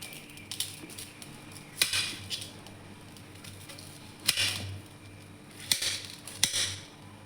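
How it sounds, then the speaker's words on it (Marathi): Knife chopping peeled potatoes finely on a board, as a few sharp isolated cuts and taps at irregular intervals, close and fairly quiet against a soft background hum. "आता आपण बारीक कट करून घेऊ."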